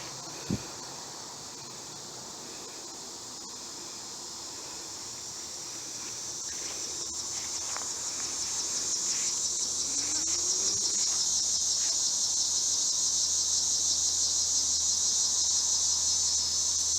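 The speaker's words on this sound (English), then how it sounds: "Do you hear the cicadas?" Cicadas drone in a continuous high, hissing buzz across a West Virginia graveyard, steady and swelling slightly louder midway, with faint birdsong and rustling underneath and no talking.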